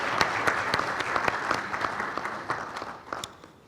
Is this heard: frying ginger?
no